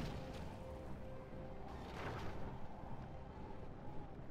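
Ballista towers firing during a siege battle in the Third Age: Divide and Conquer strategy game, heavy thuds and crashes buried in a dense, constant roar of battle noise.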